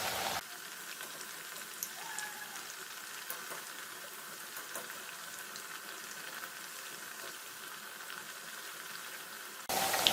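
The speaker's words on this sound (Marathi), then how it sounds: "आता वड्या छान डार्क ब्राऊन होईपर्यंत तळून घेऊ" Aloo vadi, taro leaf rolls, deep-frying in hot oil until dark brown: a steady, even sizzle with faint crackles that runs for several seconds, then a louder shift at the end.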